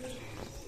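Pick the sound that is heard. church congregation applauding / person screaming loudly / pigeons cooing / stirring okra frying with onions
pigeons cooing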